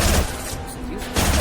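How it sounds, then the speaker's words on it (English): Gunfire from a high impact shot in the video game Mass Effect 2: loud bursts of shots at the start and end with a quieter gap between, close and dense. "Firing a high impact shot."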